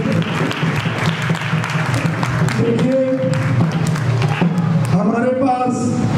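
Audience applause at a youth sankirtan group's one-year anniversary festival, a steady wash of clapping throughout with a voice speaking over it near the end.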